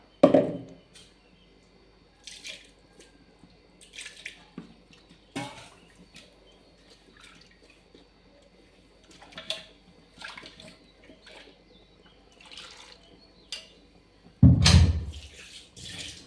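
Intermittent splashes and pours of water in a quiet kitchen as something is washed and poured into a kadai, with scattered clinks and rinsing sounds, the loudest pours at the start and near the end.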